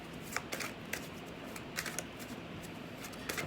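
Rapid papery riffling of tarot cards being shuffled, several quick bursts of crisp flicks, close and fairly quiet with no talking.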